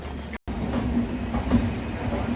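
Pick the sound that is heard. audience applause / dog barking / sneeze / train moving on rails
train moving on rails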